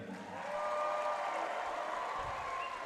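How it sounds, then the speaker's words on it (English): Applause rises from spectators at a state high school swimming finals as a swimmer is introduced, a soft, steady patter of clapping from a distant crowd in a large pool hall. "And everyone gets applause as well"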